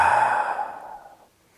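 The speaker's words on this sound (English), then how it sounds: "Take a nice big inhale through your nose and exhale out your mouth." A single long breath pushed out through the mouth during yoga practice, a soft close airy sigh that starts full and tapers to silence over about a second.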